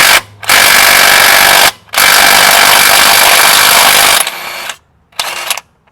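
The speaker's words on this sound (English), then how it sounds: "if it's stuck and you're using an electric drill, you might want to make sure your battery's powered up and use the trigger in short bursts" Battery-powered electric drill working a stuck crank pulley off a 2014 Dodge Journey AWD SXT, run in short bursts: a brief spurt, two long loud whirring runs, then two quieter, shorter bursts with pauses between.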